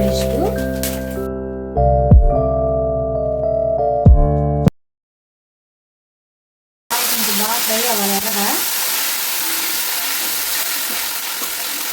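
Whole spices such as cloves and star anise drop into hot oil and ghee for chicken biryani and sizzle loudly under a steady hiss, after a stretch of musical tones and a short break of silence.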